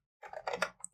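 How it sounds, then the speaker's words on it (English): Quick run of keystrokes on a computer keyboard, several close clicks packed together in under a second, alone with no talk. "So let's type in"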